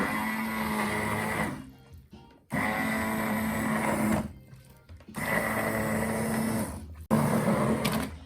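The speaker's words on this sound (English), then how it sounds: "I'm gonna use my Immersion Blender." Immersion blender pureeing a cauliflower and potato soup, running loud and close in three long bursts with brief pauses between them.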